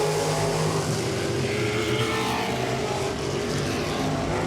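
Modified race cars at Langley Speedway, a dense continuous engine roar from several cars at once, loud and sustained with no break, no voices over it.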